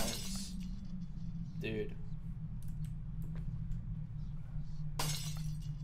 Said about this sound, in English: Can you stop breaking my glass?